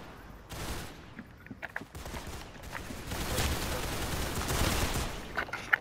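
Rapid gunfire from a Roblox shooting match, a dense continuous fusillade of shots at moderate distance with sharper bursts scattered throughout, no voices over it.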